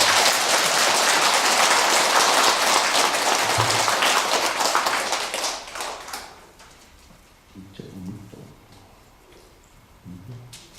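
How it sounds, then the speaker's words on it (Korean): An audience at a Buddhist dharma service breaks into dense applause, which fades away over several seconds, followed by scattered faint knocks and shuffling in the quiet room. "교통통신대 박수 한번 쳐 올리겠습니다."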